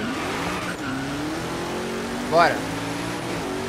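Zenvo ST1 race car driving in Forza Horizon 3 Hot Wheels, with a sustained engine drone and a brief rising whine midway, while someone talks over the game audio.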